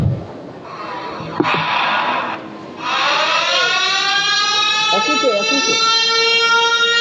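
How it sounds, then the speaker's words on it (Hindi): A civil defense–style siren wails at a school mock disaster drill, rising in pitch and holding a loud, steady wavering tone for several seconds after a brief pause, with faint voices beneath. "अब जो सायरन बजेगा"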